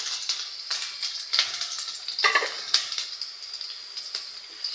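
Chopped onion and green chilies fry in a pan for pasta, a bright hissing sizzle that pulses with each stir and toss, heard close with no talking.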